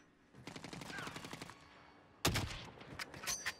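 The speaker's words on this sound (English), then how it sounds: "that guy's shooting someone" Call of Duty: Warzone gunfire: a sustained burst of rapid automatic shots, then a short pause and a loud, close second volley of sharp, cracking shots.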